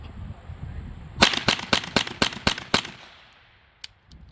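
A Kel-Tec Sub-2000 Gen3 rifle fires about seven sharp, rapid shots in an even string at an outdoor range berm, loud and close, then a faint metallic click follows in the quiet.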